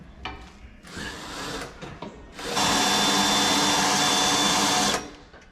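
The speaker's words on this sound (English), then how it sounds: "what Mel's doing is drilling through the chassis" A power drill runs in short bursts, then bores steadily and loudly through a van's metal chassis for a couple of seconds before spinning down.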